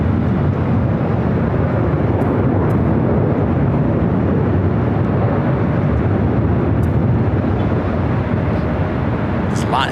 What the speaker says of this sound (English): Next takeoff here on the north side.